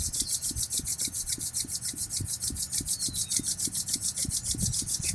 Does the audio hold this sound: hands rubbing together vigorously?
yes